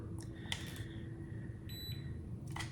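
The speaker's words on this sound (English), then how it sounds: "Beep indicates to blow into the ketone reader." A breath ketone reader sounds a few short, high electronic beeps over a low steady hum, faint and close by, with brief gaps between tones.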